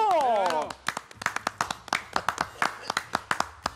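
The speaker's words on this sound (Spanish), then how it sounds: "Un aplauso para Don Elkin Lavoe." Studio audience clapping for a guest on a Spanish-language debate show: a voice trails off at the start, then scattered, distinct claps in a loose irregular rhythm, close and fairly few hands.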